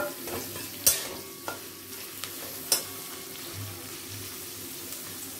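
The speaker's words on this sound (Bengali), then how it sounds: "পেঁয়াজগুলোকে দিয়ে দিচ্ছি ভাজার জন্য।" Chopped onions fry in oil in a pan for fish biryani, a soft steady sizzle under a few sharp scrapes and clinks of a spoon against the pan, close by with no talk.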